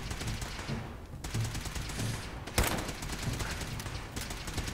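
An automated turret in the video game Fallout fires in rapid, crackling bursts, with dense overlapping gunfire, a brief lull, then a sharp loud report and further sustained volleys.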